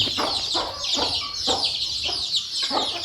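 Hens clucking steadily in a repeated rhythm, a mother hen kept together with her chicks, with high chick peeping running continuously over the top, close and fairly loud.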